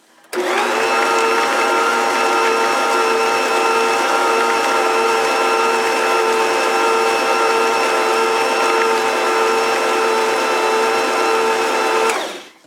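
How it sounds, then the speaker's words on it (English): An electric mixer beats raisins into oatmeal cookie dough in a home kitchen, giving a steady, loud motor whine that runs unbroken for about twelve seconds before cutting off. "just mix that until those raisins get combined in there"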